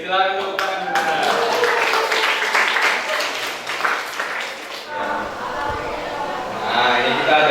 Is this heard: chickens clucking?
no